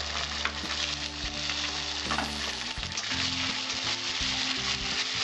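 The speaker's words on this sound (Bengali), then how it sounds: "এইগুলো ভালো করে আমি ভেজে নেব।" Turmeric, slit green chili and chili powder fry in a pan for a pomfret fish curry, a close, continuous bright sizzle over soft background music.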